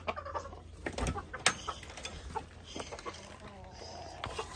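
Chickens cluck sporadically amid clattering handling noises and a few sharp knocks, fairly close and moderately loud, while being released and sorted into sections of a new coop.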